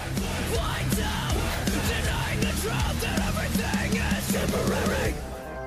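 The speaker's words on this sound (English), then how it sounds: "Group shouts, bro." A group of people shout together, loud overlapping yells and whoops close by, sustained for several seconds before cutting off.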